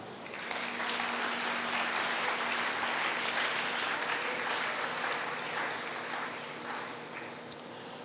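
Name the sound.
church congregation applauding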